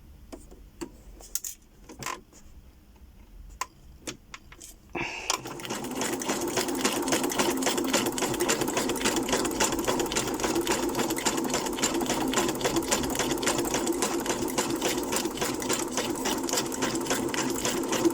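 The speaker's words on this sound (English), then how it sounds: "And then I'm going to fold and sew across with a zigzag stitch." A sewing machine runs a steady zigzag stitch across a paper journal page, a continuous rapid mechanical whir that starts after a few seconds of scattered light handling clicks and carries on evenly and close.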